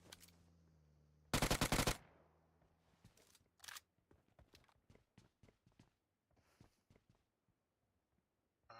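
Gunfire in a PUBG Mobile esports match: a loud burst of automatic fire, then a scatter of single shots and short bursts that thin out and echo at varying distances, with no one talking.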